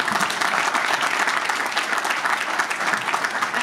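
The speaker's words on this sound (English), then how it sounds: "A huge round of applause, ladies and gentlemen." A big audience at a product launch event claps continuously, a thick, steady wash of applause that stays strong from start to finish.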